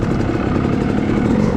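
A four-stroke dirt bike engine on the Enoree Cycle Trail OHV woods trail. It holds a steady, loud mid-pitched drone throughout the short stretch, with no talk over it.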